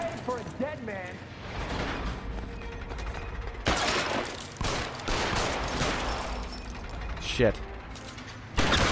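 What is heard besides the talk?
gunfire in the video game L.A. Noire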